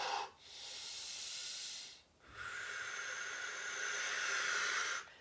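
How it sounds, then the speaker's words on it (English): Slow, audible breaths during a seated chair yoga pose: one long airy exhale, a pause, then a longer drawn-out breath, close and hissy with no speech. "Breathing, breathing."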